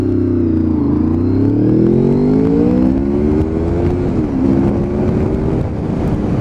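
A motorcycle pulls away and accelerates hard, its engine note climbing steadily through the gears, loud and close with wind rush over the microphone.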